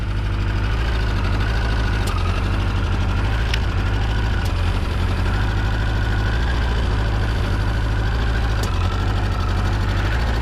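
A motorcycle engine fitted with Mikuni BS34 carburetors idles steadily and close up, a constant low rumble with faint periodic ticks over about ten seconds, no talk.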